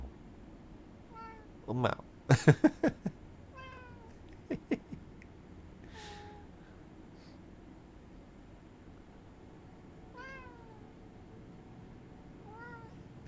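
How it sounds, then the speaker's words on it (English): A cat lets out repeated plaintive meows, several drawn-out cries spaced across the stretch, fairly close, while a person speaks softly and some handling knocks sound in between. "Sad kitty noises."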